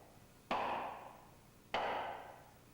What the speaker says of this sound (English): apply a wooden block on the side of the friction pulley of the horizontal shaft and hit it with a hammer to draw out the gearbox